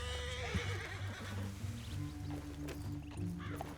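A horse in the video game Red Dead Redemption 2 lets out a clear, close whinny with hoof clip-clops beneath, over a low ambient bed and no talking.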